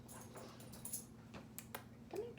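A pet dog indoors makes faint, brief whimpering and shuffling sounds over a quiet room background, with no one talking.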